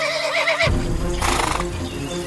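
A horse gives a loud, close whinny that breaks off abruptly, followed by shuffling and hoof-like knocks with a brighter noisy burst in the middle.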